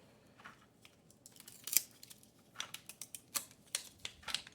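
A flexible mold is peeled away from a cast concrete garden mushroom, giving faint, close, irregular crackles and sharp snapping peels that come more quickly toward the end, with no speech.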